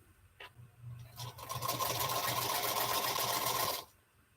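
A home sewing machine runs in one continuous burst of about two and a half seconds, a close, steady whirring stitch rhythm that starts and stops cleanly, with a few faint clicks before it and no speech.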